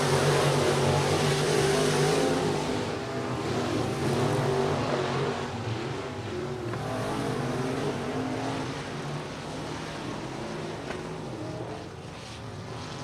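Late model race cars roaring around the I-37 Speedway oval, a loud sustained engine drone that swells and fades slightly as the pack passes, heard alone without commentary.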